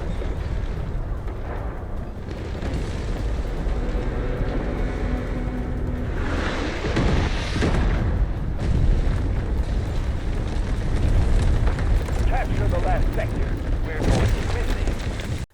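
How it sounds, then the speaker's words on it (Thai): Guided missiles exploding and a building collapsing in the Delta Force video game: a heavy, sustained rumble with a louder crashing surge midway, followed by continuing debris noise, with a voice talking over it. "หลังจากที่ยิงไกด์มิสไซล์ไป 2 เม็ดเนี่ย ไอ ตึกมันจะถล่มแล้ว"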